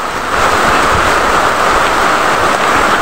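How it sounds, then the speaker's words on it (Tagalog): Heavy rain pours down in a steady, dense roar that fills the whole stretch, loud and close as if falling right around the recorder under shelter, with no talk over it. "Lakas ang ulan."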